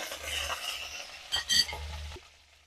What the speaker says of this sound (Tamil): கருவேப்பிலை பொரியட்டும்.